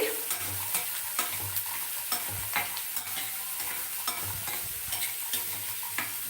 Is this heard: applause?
no